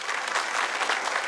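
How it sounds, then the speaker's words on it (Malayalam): A comedy show's studio audience breaks into dense, steady applause, with many hands clapping at an even level through the short burst. "നല്ലൊരു കൈയടി കൊടുക്കാം."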